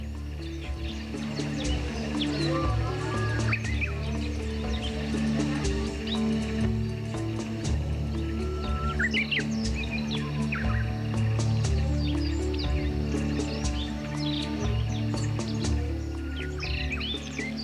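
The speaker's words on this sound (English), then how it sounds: "And here you feed the birds." Birds chirping and calling in a zoo enclosure on Tenerife, many bright overlapping tweets and trills from several birds over a continuous background din, with some croaking frog-like calls mixed in.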